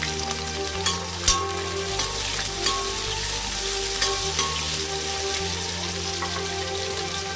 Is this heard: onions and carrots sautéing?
yes